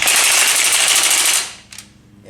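An impact wrench rattles out a loud, continuous burst of rapid hammering for about a second and a half, fitting a PTO shaft onto a White 2-135 tractor, then cuts off and leaves a brief faint clatter.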